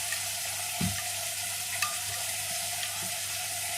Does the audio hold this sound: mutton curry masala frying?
yes